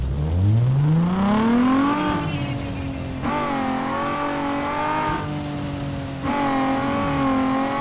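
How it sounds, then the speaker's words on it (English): A stock Nissan 350Z engine in Need for Speed Underground 2 revs up through the gears with a rising whine, shifting several times and holding a steady high drone, loud and close. "Nissan 350Z sound test. Need for Speed Underground 2."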